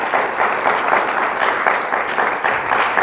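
Loud, sustained applause from a church congregation during a Spanish-language sermon, a close, dense clatter of many hands with rhythmic pulses running through it.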